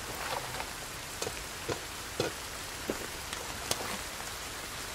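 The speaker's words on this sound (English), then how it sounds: "It's been raining a lot lately, hasn't it?" Steady rain patters in the survival video game Sons Of The Forest, a dense even hiss with scattered sharper drip-like ticks, heard alone without any voices.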